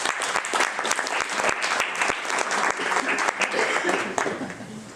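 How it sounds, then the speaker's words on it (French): Dense, sustained applause fills the room as the audience at a lecture on self-love claps for itself. It stays loud and steady for several seconds, then thins slightly at the end. "vous pouvez vous applaudir."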